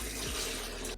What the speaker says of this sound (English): put some water in the Grainfather, get rid of the airlocks